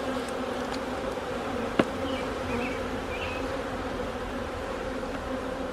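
Honey bees drone continuously around a beehive box on a cold day, a steady, dense buzz close by with a single sharp knock partway through.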